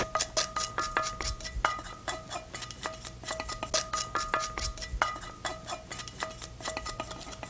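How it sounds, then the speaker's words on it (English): A utensil scrapes fried urad dal and mustard seeds out of a pan into a pot of lemon rice, giving close, steady metallic scraping with repeated clinks and no talk. "Make sure you scrape every individual little urad dal and mustard seed out of there, like so."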